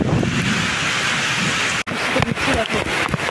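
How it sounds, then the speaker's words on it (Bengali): Rain falling outdoors with wind makes a loud, continuous wash of noise with gusty rumbles against the microphone, broken by a brief dropout midway, then scattered knocks and patters. "দেখো বৃষ্টি"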